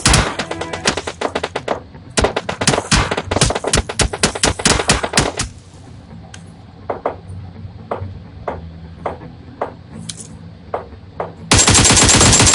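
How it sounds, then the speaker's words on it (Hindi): Rapid bursts of automatic gunfire in PUBG, loud and close, followed by a few sparse single shots, then another intense burst at the end. "तभी हमें स्कूल की तरफ से गोली की आवाज़ आती है"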